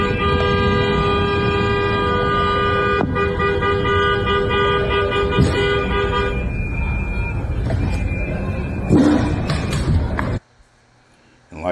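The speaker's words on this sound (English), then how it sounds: "that pattern that she's honking her horn in and those whistles that we hear in the background" A car horn honks in a repeated pattern while whistles sound in the background on a Minneapolis street, loud and sustained tones before an abrupt drop to near silence; voices talk at points.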